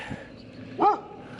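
A dog in a small Argentine town gives a faint whimper, then a single short, sharp bark nearby, with quiet background between.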